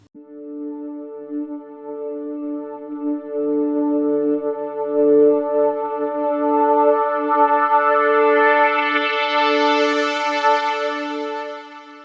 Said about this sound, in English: the filter will just open up slowly as it plays like this